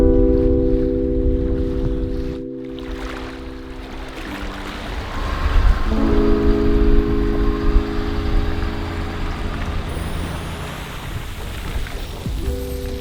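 Strong wind of about 25 mph and big swells on a lake, heard from a boat: continuous gusty rush and water slapping, with a droning outboard motor that cuts out briefly and returns, no talk.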